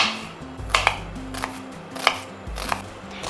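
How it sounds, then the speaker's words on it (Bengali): A knife slicing an onion into long thin strips on a board for egg curry, several crisp separate cuts at an uneven rhythm, close, with steady low-pitched background music underneath. "পেঁয়াজটাকে এইভাবে লম্বা পাতলা করে কেটে নিচ্ছি।"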